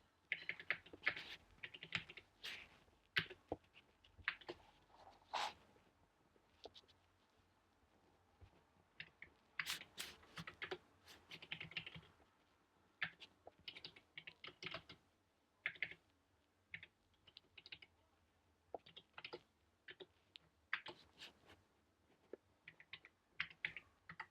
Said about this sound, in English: I'm going to also type it.